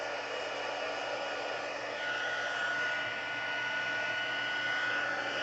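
A heat gun blows with a steady, close, hissing airflow roar and a faint high whine, running continuously without a break, heating stamped embossing on leaves.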